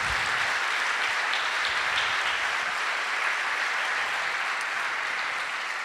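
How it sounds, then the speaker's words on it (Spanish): A church congregation breaks into steady, sustained applause after a testimony, a dense wash of clapping that stays even and fairly loud throughout with no voices over it. "Podemos aplaudir al Señor."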